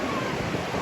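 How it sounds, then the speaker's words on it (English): Takakkaw Falls in Yoho, British Columbia, pouring down as a steady, dense roar of crashing water, unbroken and close, with a faint wind-like rush blended through it. "That is just the sheer power, the energy of water coming down."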